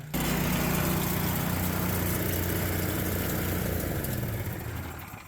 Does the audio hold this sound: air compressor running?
yes